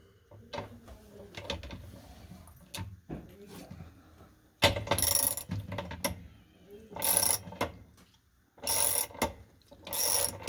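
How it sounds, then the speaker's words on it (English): A 7/16 wrench works the agitator bolt on a washing machine, giving close metallic ratcheting and clanking in irregular bursts, some loud and some softer, with no voices. "hold the bottom of the agitator and undo that bolt"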